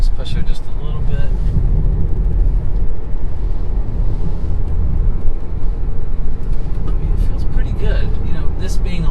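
A Tesla Model Y pulls away hard, giving a steady, loud cabin rumble of road and wind noise with no engine note, while someone talks over it throughout.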